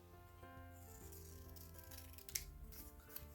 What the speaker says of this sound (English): so I got to cut that off.